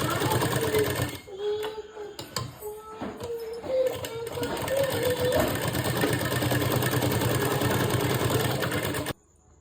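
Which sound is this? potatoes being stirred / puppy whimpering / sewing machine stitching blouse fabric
sewing machine stitching blouse fabric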